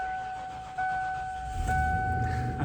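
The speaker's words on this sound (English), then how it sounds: "Let's fire it up again." A 1994 Ford F-250 XLT SuperCab 4x4 truck engine cranking and catching, with a steady electronic chime ringing throughout and the engine settling into a low rumble toward the end.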